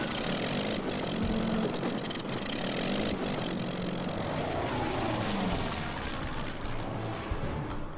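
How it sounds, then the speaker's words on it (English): Stuka dive bombers in the wargame Order of Battle make a continuous loud propeller engine drone that holds steady throughout with no talk. "Now we have the 2 Stukas incoming"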